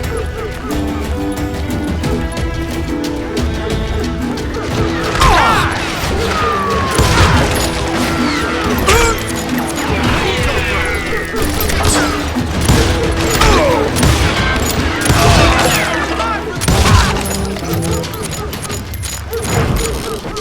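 Gunfire in the western video game Call of Juarez: Gunslinger, with repeated shots and booms over a continuous game soundtrack, and occasional voices in between.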